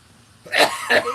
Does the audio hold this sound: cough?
yes